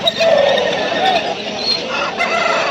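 A rooster of about 4.5 kg crows and fowl cluck close by at a busy Sunday poultry market in Pileru, with the crowing rising above a dense background of birds and market bustle.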